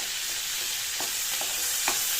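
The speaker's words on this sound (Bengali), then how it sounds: "ধনে পাতা একটু সুন্দর করে ভাজা ভাজা করতে করতে" Coriander leaves frying in a pan while dried-fish mash is prepared, a steady hiss of sizzling oil with a few soft stirring taps, close and even, no voices.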